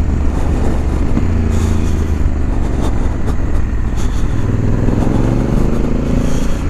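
A Honda Africa Twin 1100 DCT motorcycle rides along a bumpy country road, its engine a steady loud drone with wind rumble throughout and no pauses.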